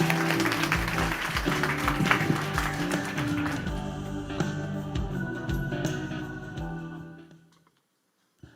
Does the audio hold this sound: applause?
yes